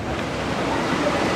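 Ocean waves wash steadily onto the beach at Cozumel, a continuous broadband rush of surf with no distinct breaks, moderately loud and alone.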